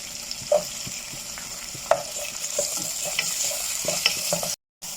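Onion fries with garlic in butter and oil, giving a steady close sizzle broken by occasional stirring clinks and scrapes of a utensil in the pan.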